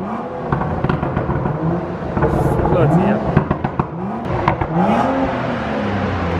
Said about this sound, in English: Give it a few revs.